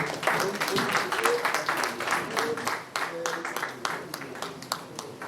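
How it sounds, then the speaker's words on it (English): An audience at an association's annual general meeting applauds for its national president, a steady dense clapping that carries through the whole stretch with talk audible underneath. "another round of applause for our national president"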